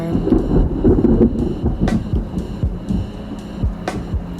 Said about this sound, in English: Y'all, it's about to storm.